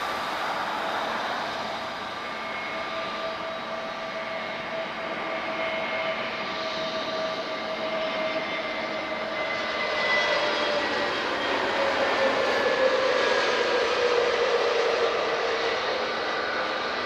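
A TAP Retrojet airliner arriving from Faro lands at Lisbon Airport, its steady engine roar and rising whine heard from a distance and swelling slightly toward the end.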